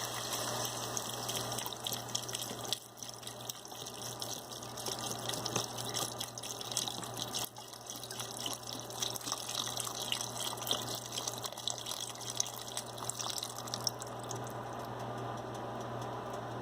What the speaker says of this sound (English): Now I'm adding in the vegetable stock.